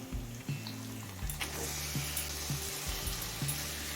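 Small boneless chicken pieces hit hot oil and spice paste in a pan, a loud steady sizzle with bursts of crackle as pieces go in, punctuated by clinks and scrapes of stirring.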